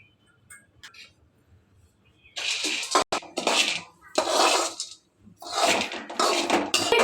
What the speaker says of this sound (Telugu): ఇప్పుడు మనం ఫ్రై చేసుకుందాం పల్లీలు.